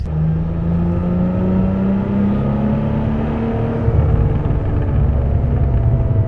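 A Cadillac CT4-V Blackwing with its stock exhaust drones steadily under load, the engine note rising slowly. It turns rougher and burbly toward the end, heard from inside the car with no talk.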